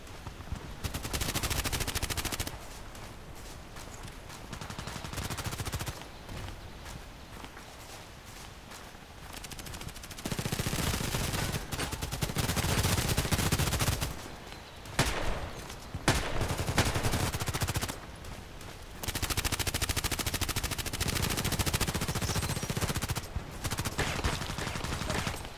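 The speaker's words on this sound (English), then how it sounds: "I like this machine gun. It's quite heavy." Heavy machine gun fire in the online shooter Contract Wars, loud sustained bursts broken by short pauses, with gunfire stretches alternating with quieter gaps.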